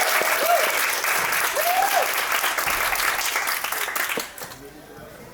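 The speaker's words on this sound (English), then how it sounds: "Give him a round of applause." Applause from an audience greeting a film director at a film festival Q&A, dense and steady for several seconds before thinning out; a few whistles or voices rise above the clapping.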